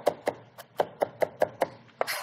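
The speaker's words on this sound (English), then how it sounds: "I'm going to chop them up pretty fine." A knife chops fresh herbs on a cutting board in a kitchen, eight or nine crisp, evenly spaced knocks in a steady rhythm, close and clear with no talking.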